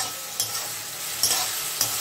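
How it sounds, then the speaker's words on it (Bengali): Onions frying with a pinch of sugar in a pan, a continuous hiss of sizzling oil punctuated by three brief scrapes of a spoon stirring, heard up close. "পেঁয়াজটাকে আমরা একটু লাল লাল করে ভাজব"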